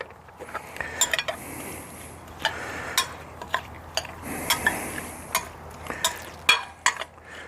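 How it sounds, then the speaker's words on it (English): A spoon stirring a marinade of cilantro, lime juice, lime zest and barbecue rub in a bowl, with a string of light clinks and scraping taps at an irregular rhythm, close and without talking. "We'll give that a stir and let it marinate."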